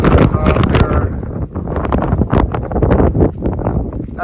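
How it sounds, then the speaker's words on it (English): Strong wind blows across an open mountain top on the Appalachian Trail, buffeting the microphone in loud, continuous gusts that roar and rumble without pause. "It may be windy up here"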